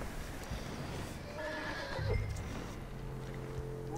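A horse in the video game Red Dead Redemption 2 gives a loud whinny over a steady background of ambient game sound and hoof movement.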